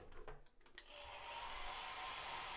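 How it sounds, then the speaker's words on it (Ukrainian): A faint, steady electric whirr of a hair dryer starts up and keeps running with an even, airy hiss after a few soft knocks. "є фен, який ми вже зараз протестимо"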